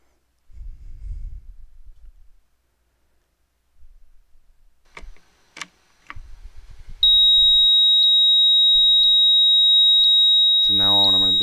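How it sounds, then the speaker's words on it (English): A loud, steady high-pitched piezo buzzer tone from an Arduino laser tripwire alarm starts suddenly and continues without stopping, following a man's quiet speech and a few small clicks. "that's going to make the buzzer go off right away until I turn on the laser"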